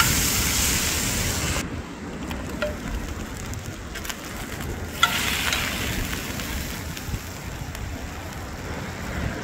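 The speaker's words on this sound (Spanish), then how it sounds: "Ya empezó a dorar y a freír, mira." Octopus frying in hot oil, a steady, close, broadband sizzle with crackles and occasional pops, continuing without pause and with no voices.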